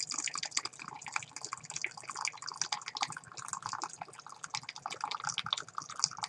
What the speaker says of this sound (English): Here's the water going in there.